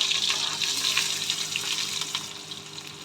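Green chili and onion hit hot oil with browned garlic in a pan for a methi bhaji, giving a steady, close, bright sizzle that fades slightly over a few seconds, with no talking.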